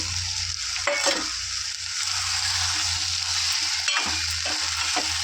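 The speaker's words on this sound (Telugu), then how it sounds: "ముందుగా మనం కట్ చేసి పెట్టుకున్న బెండకాయలు కూడా వేసేసుకోండి" Chopped okra drops into a pan of frying raw prawns, making a strong, continuous sizzle with a couple of brief stirring knocks and scrapes.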